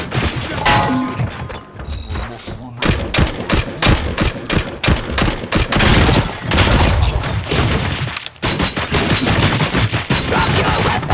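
Heavy automatic gunfire and impact crashes from the first-person shooter RoboCop: Rogue City, loud and sustained in rapid bursts with brief pauses and thuds between volleys.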